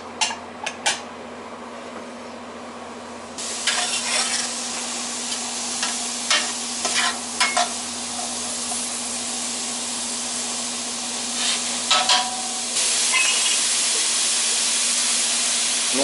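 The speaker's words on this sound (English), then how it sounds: "Green peppers. And the mushrooms. We'll render all that down." Green peppers and mushrooms fry in a pan for a meat loaf, giving a steady sizzle and hiss broken by repeated stirring scrapes and clatters, over a faint hum, with no talking.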